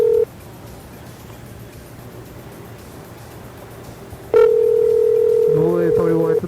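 Telephone handset gives a steady dial tone, then a sudden switch to a louder tone and quick bursts of keypad dialing beeps as a call to a person is placed.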